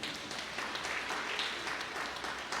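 Church congregation at a Sunday mass applauds the choir and musicians, a soft, continuous patter of many hands heard from some distance.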